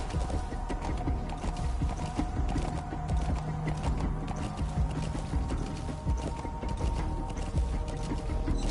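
Hooves of a galloping horse clatter in the video game Metal Gear Solid V, a rapid rhythmic clip-clop over steady mechanical game ambience, with no talking.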